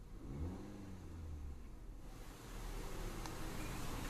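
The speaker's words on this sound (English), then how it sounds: "once it does, it really has a nice little burble to it" A car engine rises in a mid-pitched rev after the gas pedal is pressed, settling into a steady low burble that swells again toward the end, close and continuous with no talk.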